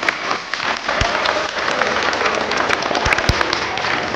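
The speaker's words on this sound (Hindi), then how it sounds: "ताली बजाइए जोर से एक बार." A studio audience at a family TV show applauds loudly, a dense, continuous patter of many hands clapping at once for several seconds, with a few sharper individual claps standing out and no speech.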